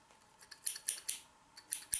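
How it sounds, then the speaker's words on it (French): Several crisp snips and clicks of scissors being opened and closed among craft supplies, about six sharp, close cuts in an irregular rhythm against a quiet room. "les ciseaux, je ne me rappelle plus comment ils s'appellent"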